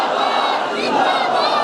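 A large crowd roars a religious slogan in unison, a sustained, loud mass of voices filling the whole moment.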